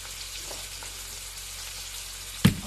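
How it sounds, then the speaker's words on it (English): Food frying in a pan gives a soft, steady sizzle with faint crackles, low and even throughout, ending in a sharp clink or tap near the end. "the frying sound is definitely ASMR"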